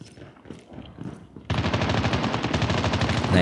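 M4 LMG machine gun in Call of Duty Mobile firing a long, loud, rapid burst of shots after a few quieter scattered shots and game noises.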